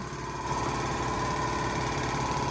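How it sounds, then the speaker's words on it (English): An air compressor runs nearby with a steady mechanical drone and rapid pulsing chug, fairly quiet and continuous throughout. "right next to that compressor. It's really loud"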